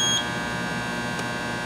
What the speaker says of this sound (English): It'll beep once it's stabilized.